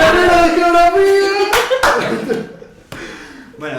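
Short burst of hand clapping and applause welcoming Marcos during a Spanish-language Tokyo 2020 Olympics livestream, mixed with chuckles and laughter and fading after a couple of seconds.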